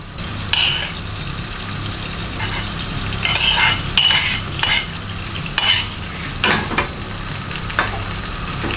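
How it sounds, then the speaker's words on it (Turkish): Beans and onions sizzle and fry steadily in a pan, with intermittent scraping and stirring clatter from a utensil, close up and without talk. "biraz da fasulyeyle kavurayım diye bak"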